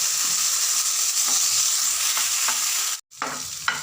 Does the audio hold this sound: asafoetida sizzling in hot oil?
yes